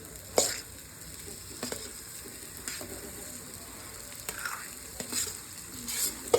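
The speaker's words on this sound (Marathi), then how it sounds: "मटकी टाकून झाल्यानंतर थोडंसं याला आपण चांगलं मिक्स करून घेऊ" Moth beans (matki) stirred into sautéed masala in a pan, with a steady low sizzle beneath repeated scraping strokes of the spoon at an uneven rhythm, close and fairly quiet, no voices.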